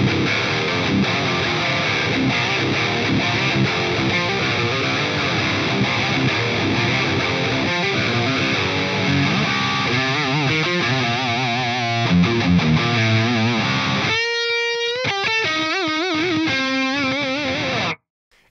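Distorted electric guitar lead through an Axe-Fx III running a Mark IV amp model into a Marshall 4x12 cabinet with Vintage 30 speakers, dry with no delay, playing sustained bends and fast runs that end abruptly.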